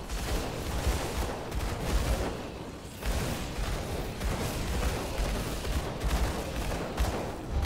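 Rapid video-game gunfire crackles in dense bursts throughout, with a brief lull near the middle before the shooting resumes at a steady, loud level.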